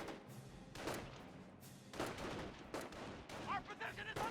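Scattered rifle and machine-gun fire from a Company of Heroes 1 battle between Volksgrenadiers and a rifle squad, repeated bursts and single shots at moderate distance, fairly faint and irregular, with a voice talking underneath.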